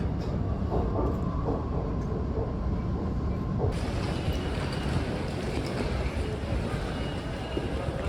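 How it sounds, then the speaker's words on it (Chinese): Qingdao Metro Line 1 train arriving at a station, a steady, loud rolling rumble and rushing noise that swells brighter and fuller midway as the train draws in. "1号线开往黄家口方向的列车即将进站。"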